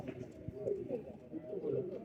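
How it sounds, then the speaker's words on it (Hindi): Zakh pigeons, two hens and a cock, cooing close by in soft repeated low calls, with someone talking over them throughout. "ये दोस्तों 3 जाक कबूतर हैं, जिसमें 2 मादियाँ हैं, 1 नर है"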